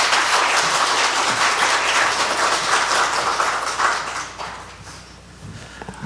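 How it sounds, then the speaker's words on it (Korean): A small Korean church congregation at an anniversary and ordination thanksgiving service gives a big round of applause. The hands clap in a loud, full burst that fades away after about four seconds into a few scattered claps. "한번 큰 박수로 맞아주시기 바라겠습니다."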